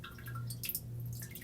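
Water trickles briefly into a pan of chilaquiles sauce as it cooks, making short, close, soft dripping and splashing sounds with no talking.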